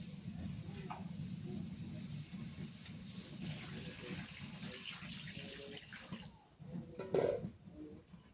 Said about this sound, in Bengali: এখন জলের পানি দিয়ে দিই